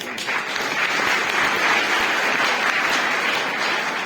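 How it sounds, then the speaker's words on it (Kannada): Students applaud together in a classroom during an interaction session with a district collector, making steady, dense, loud clapping that continues for the whole stretch without letting up. "ನೀವೆಲ್ಲರೂ ಕೂಡ ನಿಮ್ಗೆ ಒಂದು ಚಪ್ಪಾಳೆ ಜೋರಾಗಿ ಹೊಡ್ಕೊಳ್ಳಿ"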